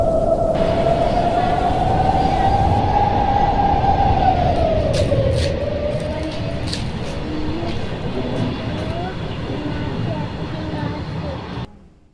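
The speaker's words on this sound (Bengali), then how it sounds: "মালগাড়ি ট্রেন যাচ্ছে" A long freight train rolls steadily past at close range, a loud sustained rumble with clattering wheels, and a drawn-out tonal whine that rises and then fades partway through.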